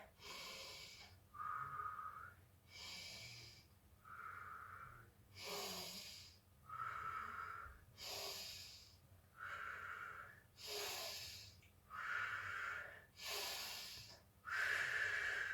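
Slow, steady breathing in through the nose and out through the mouth during a children's yoga session, about eight audible breath cycles with airy nasal inhales and soft hissing exhales, close and alone.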